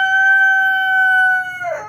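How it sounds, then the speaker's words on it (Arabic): A rooster in a laying-hen coop gives one loud, close crow, a long sustained call that breaks into a rougher trailing note at the end. "ديك ما شاء الله تبارك الله"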